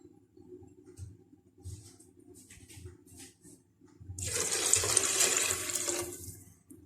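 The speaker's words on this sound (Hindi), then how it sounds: "यहाँ मैं अब 1 कप पानी डालूँगी इसके अंदर।" Water pours from a cup into a pan of minced meat and lentil shami kebab mixture. A close, steady splashing stream runs for about two seconds near the end, after a stretch of quieter low rumbling.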